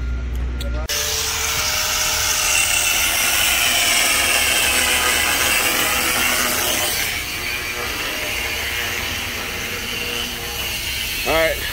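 A steel bar for truck half fenders on a 379 flat top being cut with a power tool: a loud, steady grinding whine that shifts pitch partway through and runs under talk.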